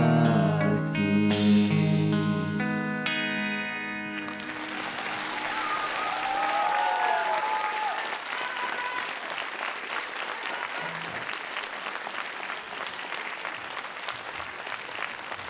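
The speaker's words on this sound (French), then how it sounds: "On peut les applaudir encore bien fort" A concert crowd at a youth music show bursts into loud sustained applause as the band's last chord rings out and fades, the clapping carrying on densely with scattered cheers.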